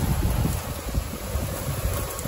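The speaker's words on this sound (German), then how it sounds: "Bin jetzt auch genau an dem Ende, wo jetzt der Wind reinzieht." Wind blows into a tiny roof overhang on a Croatian island, a constant close buffeting roar that covers everything else.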